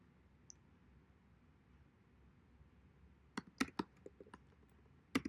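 A computer keyboard is typed on while Python code is entered: a short burst of crisp key clicks arrives after a few seconds of near silence, close by and fairly quiet, with no voices.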